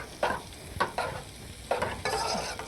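A spoon stirs a bubbling sauce with melting jelly in a pan, giving five or six scraping strokes over a soft sizzle, close and moderately loud.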